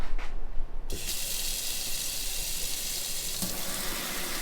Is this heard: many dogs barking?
no